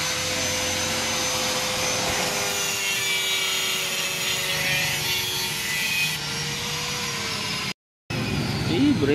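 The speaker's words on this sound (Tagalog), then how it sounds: "Puputulan to para babawasan yung nut para eksakto." A power tool cuts down a nut on a motorcycle brake part, producing a loud, continuous grinding whine with a brief cutoff near the end, while a person talks underneath.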